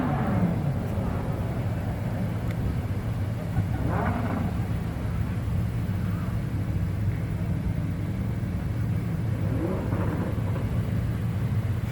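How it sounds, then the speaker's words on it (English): Ordinary street traffic pulls away from the 2019 SEMA Show car meet, a steady low rumble of engines and tyres droning throughout with a few passing swells, no voices. "No, just regular ass traffic leaving."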